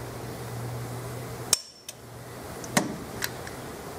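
A torque wrench being tightened gives a few sharp, close metallic clicks spaced about a second apart over a low steady background hum.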